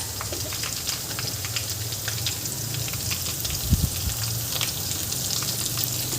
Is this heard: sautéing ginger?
yes